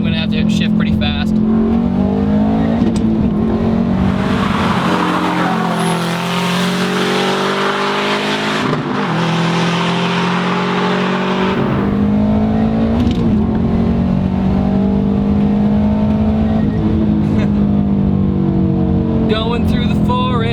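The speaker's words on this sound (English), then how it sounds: "Second gear, 40 miles an hour, pretty high RPMs. I'm gonna have to shift pretty fast." A 2006 Subaru STI engine revs hard at high RPM in second gear, heard loud from inside the car with a rising and falling growl, a quick shift and wind roar, while a person talks over it.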